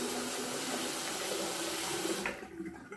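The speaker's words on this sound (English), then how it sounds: "I'm going to go ahead and drain this hot water in the sink" Hot water drains from a bathroom sink in a steady, hissing rush that runs on for about two seconds, then drops off sharply to quieter gurgles.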